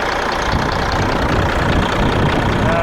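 An old Caterpillar truck engine idles at an outdoor auction, a close, steady diesel chug with a knocking rhythm running evenly throughout, no talking.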